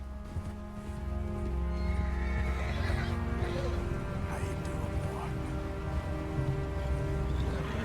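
A horse whinnies clearly in a video game while being ridden, the neigh rising over a steady bed of hoofbeats and game ambience that runs throughout.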